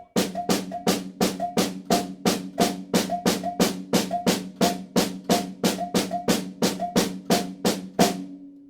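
Fast, even drum strokes repeating in a steady rhythm, each crisp hit ringing briefly, continuing for several seconds before stopping.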